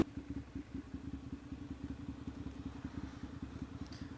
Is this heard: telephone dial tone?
no